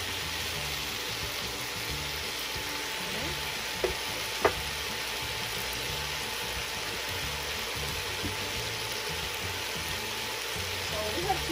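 Asparagus cooks in a pan with black pepper, giving a steady, soft frying hiss with a few faint clinks from stirring, while a voice talks quietly underneath.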